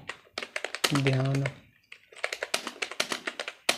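Keys clatter in quick irregular taps on a computer keyboard during a stenographer typing exam, with a brief spoken word partway through.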